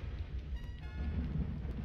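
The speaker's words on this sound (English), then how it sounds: "Just standing out here in the rain." Rain falling in the video game Aidyn Chronicles, a continuous low rumbling wash with a slight swell toward the end, steady and alone without talk.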